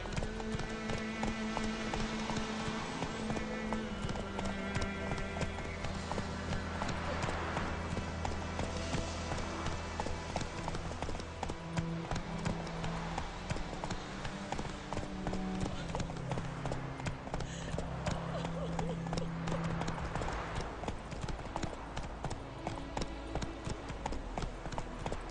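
Roach, a horse in The Witcher 3, gallops in a steady rhythmic clip-clop of hooves that runs throughout, layered with game music and low background sound.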